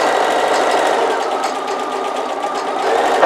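A sewing machine runs straight across a fabric gift box in one continuous, close and fairly loud whirr of stitching.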